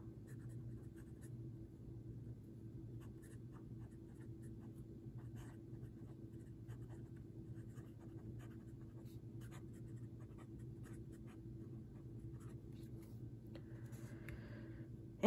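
A Platinum Century 3776 fountain pen with a medium nib writes on a Rhodia dot pad, giving a soft, faint, continuous scratch of nib on paper over a steady low background hum.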